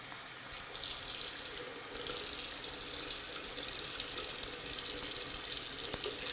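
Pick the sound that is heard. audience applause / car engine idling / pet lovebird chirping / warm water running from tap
warm water running from tap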